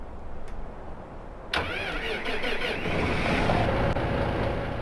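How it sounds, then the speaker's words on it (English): A Massey Ferguson tractor engine in the Farming Simulator 15 game starts with a sharp click, then catches and settles into a steady, loud mid-pitched idle that runs on alone. "there's a little bit of a click when you start the engine up"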